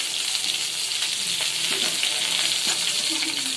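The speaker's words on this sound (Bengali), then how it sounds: "মুরগির মাংস তেলে ভাজা হচ্ছে" Chicken pieces fry in hot oil with a steady loud sizzle, broken by occasional stirring scrapes and clinks.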